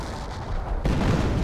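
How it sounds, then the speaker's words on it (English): A howitzer firing in a video game, a heavy booming blast that rises abruptly and rumbles on, loud and close. "the howitzer showing why it's one of the most inconsistent pieces of artillery around"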